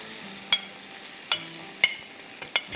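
Spices and ingredients mixed into hot butter in a pan for chicken methi kabab, a few distinct spoon clinks against the pan over a faint quiet sizzle.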